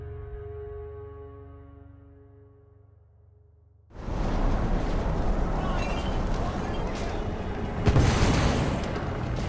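A loud explosion in the video game The Order: 1886 erupts abruptly after a quiet, tonal stretch, turning into a dense, sustained roar of rumbling debris, with a second heavier blast surging near the end.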